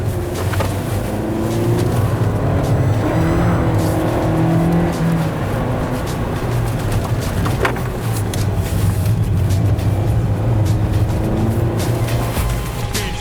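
A Toyota Yaris held at the cornering limit and starting to understeer, its engine giving a steady, loud drone with road and tyre roar throughout, without talk.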